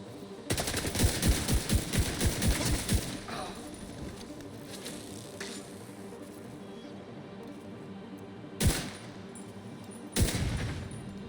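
Automatic gunfire in The Division 2: a fast, loud volley of rounds for a few seconds, then quieter game sounds and two more sharp isolated shots, with someone talking over parts of it.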